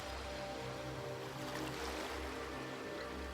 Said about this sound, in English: to the sound of the waves, the repetitive rhythmic sounds.